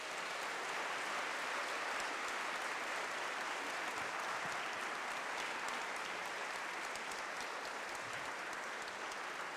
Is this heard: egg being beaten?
no